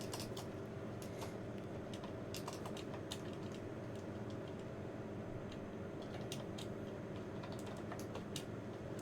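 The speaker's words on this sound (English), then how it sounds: "If I can get my typing right on that" Rapid, irregular clicking of keys on a vintage IBM computer keyboard, steady typing over a constant low electrical hum from nearby machinery.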